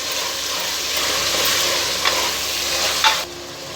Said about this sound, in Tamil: இப்போ இது எல்லாத்தையும் நம்ம நல்லா சிக்கனோட வதக்கிக்கலாம்